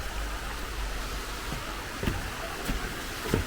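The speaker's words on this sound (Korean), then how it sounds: "벌써 계곡 소리가 들리죠?" Water in a mountain valley stream at the Jangcheok valley entrance flows with a constant soft hiss, broken by a few light splashes and taps, with no voices over it.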